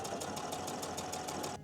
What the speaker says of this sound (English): Now I'm going to take it to my sewing machine and I'm going to sew a 1 centimeter seam allowance around the top 3 edges.